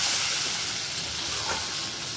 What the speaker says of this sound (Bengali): এবার মশলাটাকে ভালো করে কষতে দেবো।